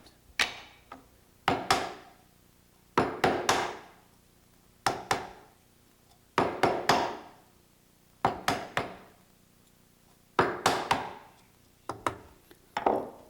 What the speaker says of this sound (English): Chisel halfway through from each side.